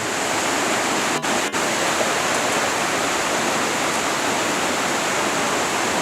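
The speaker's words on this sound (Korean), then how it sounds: "물소리가 이뻐요" A mountain stream on Jirisan flows in a constant, loud, broadband wash, tumbling over rocks, with a couple of brief clicks.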